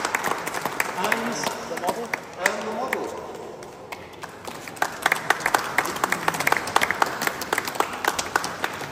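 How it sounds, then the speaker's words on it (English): Audience applause greets the unveiling of the Accurascale 66190 model, a dense patter of clapping that swells and continues steadily throughout, with a speaker's voice talking over it near the start. "Round of applause."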